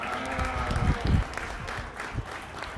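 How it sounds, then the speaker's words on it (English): A crowd applauds steadily at a county fair sheep show, a dense patter of clapping filling the room for a few seconds. "Let's give all those kids a big round of applause."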